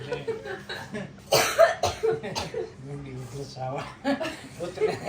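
A person coughs repeatedly in a few harsh bursts after mustard seeds are tossed into hot oil, the coughing mixed with chuckling and people talking nearby.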